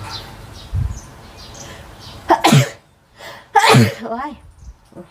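A woman sneezes twice, loud and close, each sneeze a sharp burst with a short breathy lead-in, spaced about a second apart, with faint background sounds and a soft vocal murmur after.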